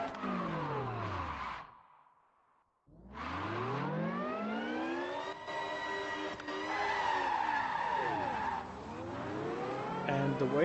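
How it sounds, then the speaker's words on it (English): In a racing video game, a car's tires screech in long sweeping drifts, the pitch bending up and down with a whining engine and a brief silent gap between skids. "Oh yeah, I can do the drifting now."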